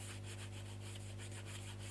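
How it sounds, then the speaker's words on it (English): Dried gesso and paint layers being scuffed with quick, repeated rubbing strokes in an even back-and-forth rhythm, close and quiet, over a steady low hum with no talking. "I'm actually scuffing up some of the layers that I've put there"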